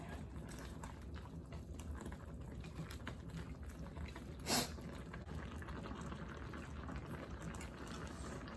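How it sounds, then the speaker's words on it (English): Ramyeon noodles soak in boiling water, a continuous bubbling simmer with one brief louder splash partway through. "now I'm going to soak the noodles for the ramyeon for another 5 minutes"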